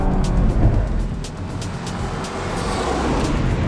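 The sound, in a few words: car driving on Bridgestone Potenza RE71R tires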